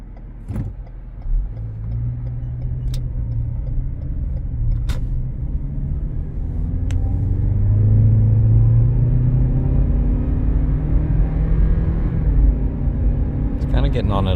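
A Lexus NX 300 accelerates moderately, its engine rumble and road noise swelling steadily and peaking before easing off, heard from inside the cabin with a few faint clicks.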